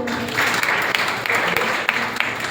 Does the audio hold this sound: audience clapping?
yes